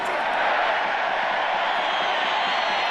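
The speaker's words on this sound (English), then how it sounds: "Crowd getting back into it now" A stadium crowd at an Argentina v Australia rugby match keeps up a loud, steady, broad roar of cheering, with no break or lull.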